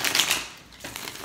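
Tarot cards are shuffled on a table in quick riffling bursts, a crisp papery flutter near the start, a brief pause, then softer rustling, close and alone.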